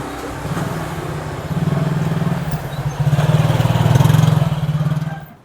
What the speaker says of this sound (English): motorbikes will go everywhere they can.